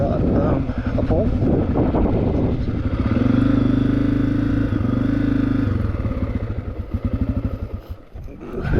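A 2023 CRF250F dirt bike rides a trail by a lake. Its engine rises to a strong, close drone midway, with wind buffeting the microphone.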